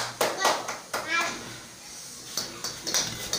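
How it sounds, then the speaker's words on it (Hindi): Hands clap in a string of sharp, close claps at an uneven pace around a toddler playing cricket at home, with a voice and adult talk mixed in. "तालियां।"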